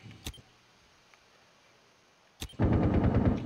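Gunfire in Rainbow Six Siege during a bomb match on the Coastline map: two sharp isolated shots early, a quiet stretch, then a loud sustained burst of firing close by at the end.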